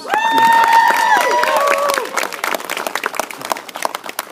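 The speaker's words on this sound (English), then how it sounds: "can I get a round of applause for how beautiful she looks tonight, please?" Wedding guests applaud the bride at a reception, a burst of clapping and cheering with a voice rising over it at the start, then a thinner scatter of claps that slowly trails off.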